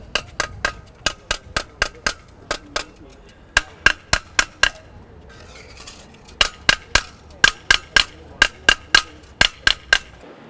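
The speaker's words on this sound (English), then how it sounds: "he presses it with the hammer so that it seals" A hammer strikes a folded tin seam in a traveller tinsmithing demonstration in County Monaghan, giving rapid, sharp metallic taps in two long rhythmic runs separated by a short pause.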